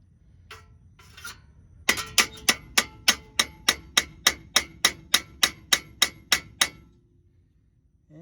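A hammer strikes the front axle dust seal of a 2006 Ford F-250 in about seventeen sharp, evenly spaced metallic blows, close and loud, after a few quieter clinks at the start.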